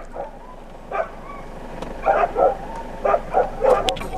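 Laika dogs barking and yelping outdoors at a distance, short bursts scattered across the clip that grow more frequent toward the end, some sounding higher and whiny.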